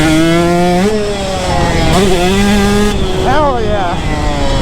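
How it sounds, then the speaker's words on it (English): A loud, close two-stroke motorcycle engine revs up and down repeatedly, its pitch rising and falling, as a voice exclaims briefly over it. "the bike revved out good"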